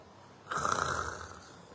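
A voice imitates snoring while drilling the throaty Arabic letter kha in a Qur'an study session, producing one rasping, sustained snore-like breath that starts abruptly and fades.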